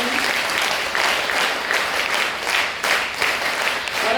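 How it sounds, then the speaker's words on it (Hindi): An audience at an NCC cadet award ceremony gives loud, hearty applause, a dense roar of clapping with gentle pulses in intensity, fairly close and steady throughout. "तो एक बार सर के लिए जोरदार तालियां होनी चाहिए।"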